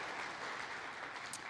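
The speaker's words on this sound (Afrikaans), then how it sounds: "Kom ons julle lekker hande klap." A church congregation claps for visiting guests during a Sunday morning service, a dense, steady wash of applause held for a moment.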